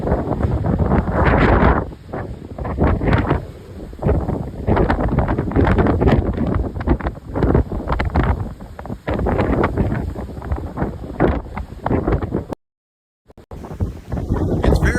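Heavy wind buffets the microphone in loud, continuous gusts aboard the cruise ship Odyssey of the Seas, with a brief dropout of silence near the end.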